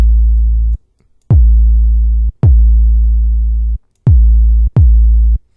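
A distorted 808 bass patch built in Serum for pop music, playing five long, loud sustained notes. Each starts with a sharp click and fades off, with short gaps between them and no voice.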